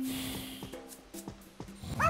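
Cartoon dogs in the video game Thief Bob 2 give a quick series of short yips and barks over a held musical tone, ending in a higher whimpering yelp.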